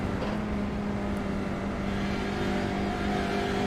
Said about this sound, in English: gradually building that power up into 5th gear now